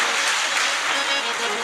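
A crowd at a devotional gathering in an ashram claps in a dense, continuous burst of applause, with a voice carrying over it.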